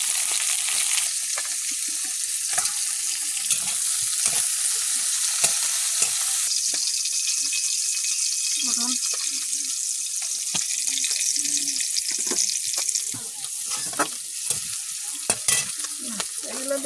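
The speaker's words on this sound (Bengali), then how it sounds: "ভেজে দেবো কুমড়ো ডুমো শাক আলু একসাথে" Diced pumpkin, leafy greens and potato fry together in hot oil with garlic, a steady close sizzle broken by repeated scraping and clanking strokes of a spatula stirring the pan.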